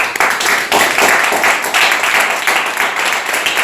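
Congregation applauding in a French-speaking church service, a dense, steady wash of clapping hands that fills the room continuously for several seconds with no break.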